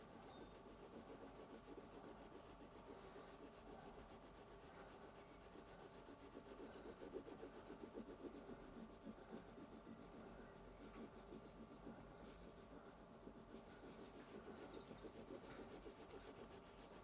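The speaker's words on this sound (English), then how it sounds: "Keeping the burnish in a relatively stable position and moving the Tsuba" Burnisher rubbing steadily around the metal rim of a handmade tsuba, giving a continuous faint, close dry scraping and rubbing texture with slight rhythmic variation and no pauses.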